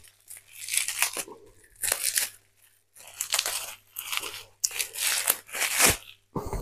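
Crinkly tearing and crunching of bubble wrap packaging being unwrapped from a boxed tarot and Lenormand card set, in several close bursts separated by short pauses.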